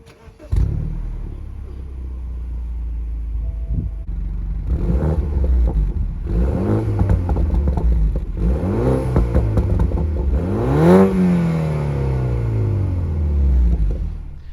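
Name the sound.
BMW Z4 2-litre 4-cylinder engine starting and revving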